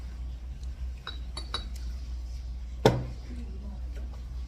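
Soju glasses clink together in a toast at a Korean raw-fish restaurant: one sharp, bright clink stands out, with a few lighter tableware taps before it, over quiet background.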